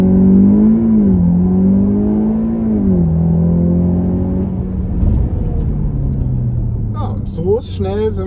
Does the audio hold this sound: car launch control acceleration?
yes